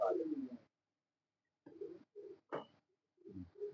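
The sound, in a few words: pigeons cooing at a pigeon keeper's setup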